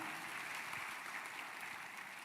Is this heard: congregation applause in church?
yes